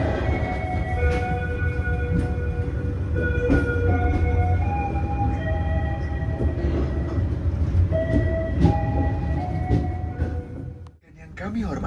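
A train pulls away from Cipendei station in Garut, its rumbling carriages steady and close, with scattered tonal squeals and clatter over the bed of noise and a brief dip near the end.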